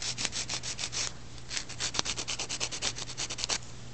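A nail file rubs back and forth over a hard dip powder overlay on a natural nail, a close, steady run of quick scratchy strokes in rhythmic bursts.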